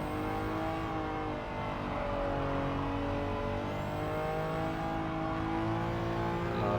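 A Honda S660 kei car in Gran Turismo 7 races around the Willow Springs street circuit, its small engine droning steadily with rising and falling pitch as it accelerates and shifts, loud and continuous with no voices.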